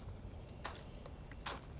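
A cicada calling from the ground outdoors, a steady high-pitched electric buzz held throughout, with a few soft scuffs like footsteps beneath it and no talk.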